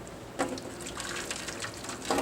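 Water pours out of a Cuisinart PerfecTemp electric kettle in a steady, close splashing stream lasting a couple of seconds, with a brighter splash at the start and again near the end.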